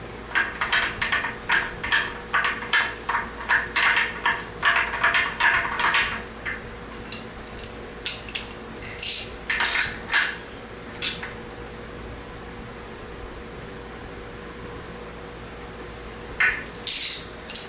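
A 32mm socket turns the main chain tensioner on a BMW M52 stroker engine, giving a rapid series of close ratchet clicks and metallic clinks, then quieter pauses and a few more sharp ticks.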